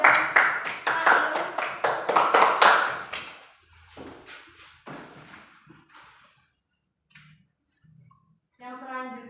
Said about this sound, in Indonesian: Silakan beri aplaus kepada Indah dan Sail